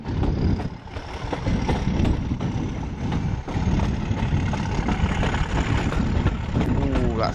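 A Class 37 diesel locomotive roars hard under load, a loud, gritty, throbbing engine thrash that holds steady for several seconds, with a voice talking over it.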